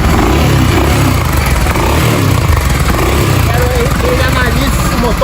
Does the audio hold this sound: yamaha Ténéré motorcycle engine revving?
yes